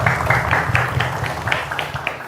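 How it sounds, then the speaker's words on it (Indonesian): Studio audience applause on the set of an Indonesian political talk show, a dense steady patter of many hands clapping together for the whole stretch, with a low hum underneath. "Oke, tepuk tangan terlebih dahulu."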